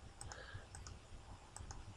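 Computer mouse clicks while editing an image in Photoshop Elements, several quick light clicks in small clusters over quiet room noise, with no talk.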